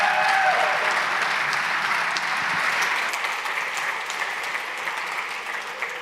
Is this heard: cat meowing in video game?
no